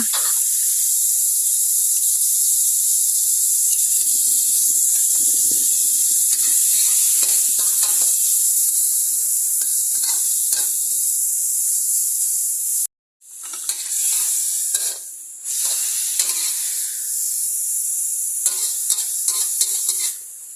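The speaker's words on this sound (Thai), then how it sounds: "ผัดเครื่องเคียงเสร็จแล้ว" Wood ear mushrooms, pickled bamboo shoots, pickled beans and pickled vegetables stir-fried for luosifen, a loud close hiss and sizzle with spatula scraping and tossing, one brief break near the end before frying resumes.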